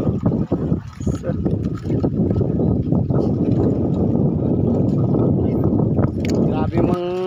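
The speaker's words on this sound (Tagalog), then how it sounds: "Grabe mang hangin dito" Strong sea wind gusting at a sea wall where people are fishing, a loud buffeting roar hitting the microphone in bursts throughout, with a voice speaking briefly at the end.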